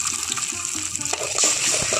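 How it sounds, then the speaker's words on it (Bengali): Beaten egg poured into hot oil in a pan, a close, loud gushing sizzle of liquid hitting hot fat that swells toward the end. "ওই তেলের মধ্যে আমি এখন যে ফেটিয়ে রেখেছিলাম ডিমটা, ওটা দিয়ে দিচ্ছি।"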